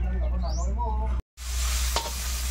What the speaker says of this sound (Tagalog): ginisa na ang pork